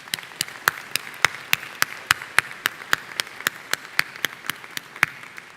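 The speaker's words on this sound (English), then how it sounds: "We would like to recognize you again with a round of applause." Sparse applause from a university commencement audience, a few separate hands clapping in an uneven rhythm of sharp, distinct claps over a quiet room.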